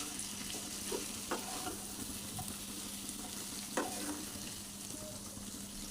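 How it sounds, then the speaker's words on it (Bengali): Chunks of mutton and potato being stirred in a pan with whole green chillies, a steady faint sizzle of frying with a few soft scrapes of the spoon against the pan, no talking. "এইভাবে একটু ভালো করে নেড়ে নিতে হবে।"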